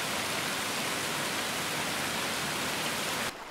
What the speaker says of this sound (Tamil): அன்னைக்கு நைட்டு மழை பெஞ்சுது.